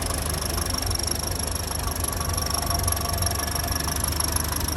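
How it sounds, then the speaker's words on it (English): A Land Rover Series 1 88-inch with its 2-litre engine idles warm, giving a steady, close, loud mechanical chug with a slight knocking rattle throughout. "There we have a proper Series 1 2-litre engine."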